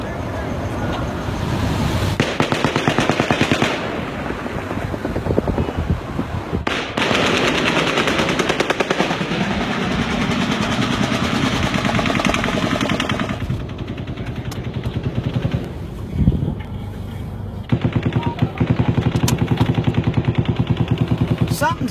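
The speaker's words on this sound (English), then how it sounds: "a weapon is clearly shooting from the 4th floor of Mandalay Bay" Rapid automatic gunfire rings out from the upper floor of a Las Vegas Strip hotel, sustained loud bursts with short pauses that sound distant and echoing, mixed with traffic and crowd noise.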